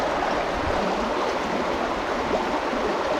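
A river flows beneath an old bridge near a forgotten village, giving a steady, close broadband rush of water with no pauses and no voices.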